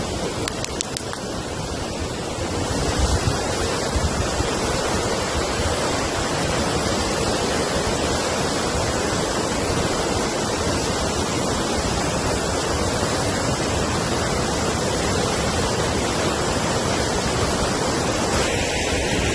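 Waterfall at Southford Falls State Park pours over rocks in a steady, loud, continuous broadband rush that fills the whole stretch without pause, close by and with no talking.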